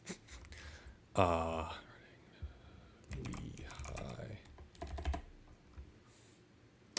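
Clicking and typing on a computer keyboard at a desk, bursts of quick key clatter broken by short pauses, close and moderately loud, with some breathing and faint voice in between.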